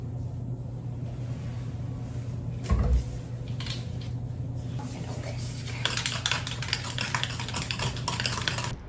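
Bleach lightener and developer are stirred together in a bowl, a steady scraping and clinking close by over a low hum, with faint talking in the background.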